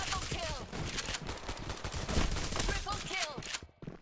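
Rapid shotgun blasts in a battle video game, a dense volley of overlapping gunfire with brief whistling tones, loud and continuous before dropping off at the end.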